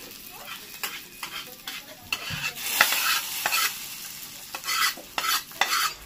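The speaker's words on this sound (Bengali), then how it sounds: "সব কটা একসাথে ভাজা হয়ে যাচ্ছে, কিন্তু আমার আর নাড়তে হচ্ছে।" Peanuts and banana stem frying together in a hot pan, stirred with a utensil, giving repeated scraping bursts over a soft sizzle, close and fairly loud, with no talking.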